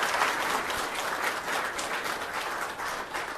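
Sustained applause from a crowd at a city council meeting, steady dense clapping at moderate distance with no talk over it.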